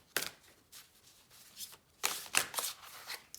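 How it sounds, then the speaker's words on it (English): Tarot cards shuffled by hand in a couple of quick riffling bursts, crisp papery flutters with short pauses between, close and fairly quiet with no talking. "I'm gonna shuffle them again"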